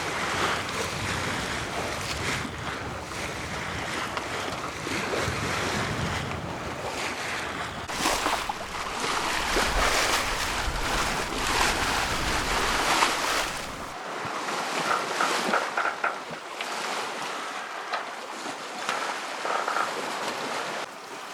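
A sailboat moving through ocean waves at about six knots, with a steady rush of water and wash along the hull mixed with gusty wind buffeting, loud and continuous, calmer toward the end, no voices.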